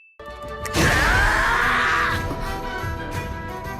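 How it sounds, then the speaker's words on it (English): Swords clash in an anime battle: a sudden loud metallic impact rings out with a bright, sustained shimmering scrape that slowly fades, over a rumbling background. "they cross swords as he protects V"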